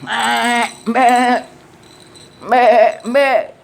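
A male goat bleats four times in quick succession, close and loud, each call a wavering, quavering cry with short pauses between.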